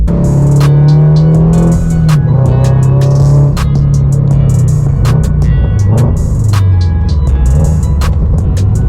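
A car engine idles loudly and steadily on a cold start at a fast, raspy high idle, close by, with a rough droning hum throughout and no talking.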